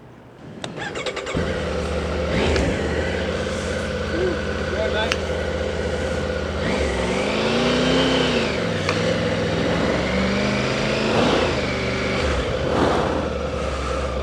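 A 2025 Triumph Tiger 900 Rally Pro motorcycle starting and riding off in sport mode, the engine droning steadily with rising and falling revs as it pulls away, heard from the rider's position under wind.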